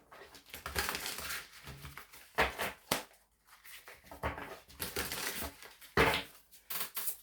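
Tarot cards are shuffled in quick riffling bursts, a close, soft papery crackle repeated in several short runs with brief pauses between them, heard alone and without talk.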